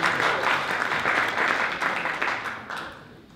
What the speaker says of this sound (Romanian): am să vă rog să venite un aplaud pe Viorela Petrei